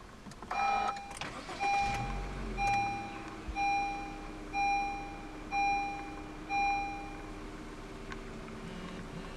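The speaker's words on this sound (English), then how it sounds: "press the red engine start stop button to the left of the steering wheel" A 2014 Honda City 1.5 V started by push button: a short starter crank catches into a smooth idle, while a series of evenly spaced electronic chimes rings over the engine noise inside the cabin.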